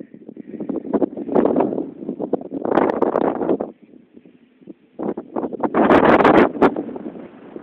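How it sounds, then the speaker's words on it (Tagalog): Strong wind on a hilltop overlooking Taal Lake buffets the microphone in loud, rumbling gusts that rise and fall, with brief lulls between heavy blasts. "Lakas ng hangin dito."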